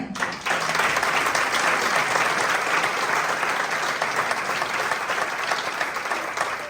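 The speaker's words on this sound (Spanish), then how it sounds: "un aplauso para Xosé" Concert audience at the Centro Galego de Vitoria breaks into sustained, loud applause lasting several seconds, steady clapping filling the hall without pause.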